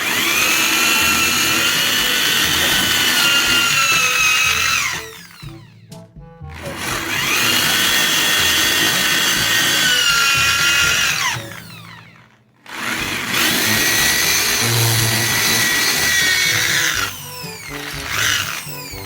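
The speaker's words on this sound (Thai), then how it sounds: "ก็มีแค่สว่านตัวเดียว อืม โอเค เดี๋ยวมายิงกันเลย" A power drill whirs loudly in long sustained bursts into a wall for mounting a wall fan, pausing briefly between runs, with the motor pitch rising and falling as it bites in.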